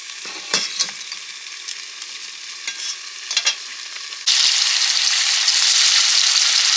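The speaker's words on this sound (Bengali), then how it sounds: "মাছ ভাজা" Fish frying in a pan: a few quiet clinks and faint stirring sounds come first, then a sudden loud, steady sizzle of hot oil takes over for the rest.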